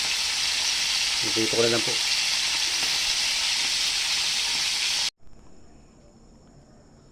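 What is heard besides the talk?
small crabs frying in oil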